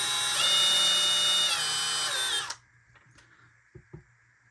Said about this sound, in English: So, we're just going to drill this out real quick.